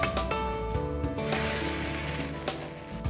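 Amla and beetroot tikki frying in hot oil, a close, dense sizzle and crackle that swells midway, with no one talking.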